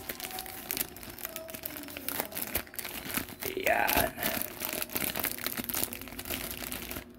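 Scissors cutting open the plastic packaging of a MacBook keyboard cover: crinkling and tearing of wrapping close by, with a sharper rip midway, under quiet talk.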